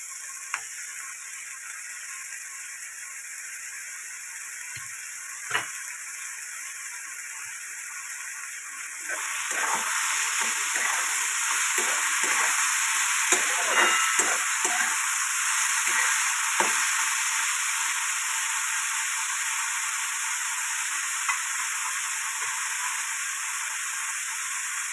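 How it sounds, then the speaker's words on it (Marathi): Veg burger mixture fries in a pan with a quiet hiss that swells into a louder, fuller sizzle midway, broken by scattered scrapes and knocks as it is stirred. "आता 1-2 मिनिटं चांगली भाजून घेऊया आपण."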